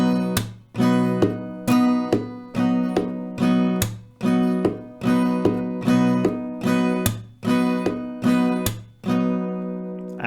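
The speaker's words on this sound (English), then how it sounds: "it's cool to sometimes do double thumbs and double claps" Acoustic guitar played in a strumming pattern with doubled thumb strikes and doubled body claps, a regular rhythmic loop of ringing chords and sharp percussive hits, close and alone.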